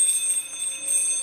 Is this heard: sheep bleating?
no